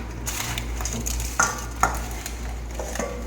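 Chicken pieces being stirred in oil in a pan for confit, soft scraping and clattering with a couple of sharper knocks of utensil against the pan over a low steady hum.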